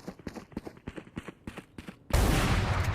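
Operator sniper rifle shot in a Valorant esports match, a sudden loud broadband blast that stays dense and sustained after a run of short rhythmic impacts and clatter.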